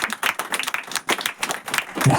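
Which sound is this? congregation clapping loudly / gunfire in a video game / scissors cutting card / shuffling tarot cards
congregation clapping loudly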